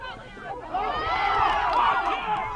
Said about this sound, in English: Crowd disapproving of that.